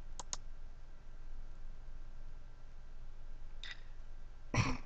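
Computer mouse clicks while using vinyl design software: a quick double click near the start, a softer click midway, and a louder click burst at the end over a quiet background hum.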